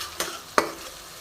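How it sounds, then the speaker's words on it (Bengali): Spice masala with turmeric frying and being stirred in a pan on the stove, heard as a steady soft sizzle with two sharp spatula scrapes against the pan. "তো মশলাটা আমি কষার জন্য অপেক্ষা করব।"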